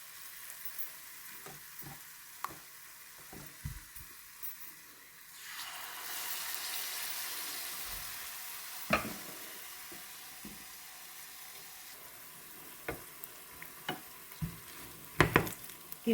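Cassava paniyaram batter fries in a pan. A sizzle swells loudly after the batter goes in, then settles into a steadier fry with scattered ticks and scrapes. There are no voices.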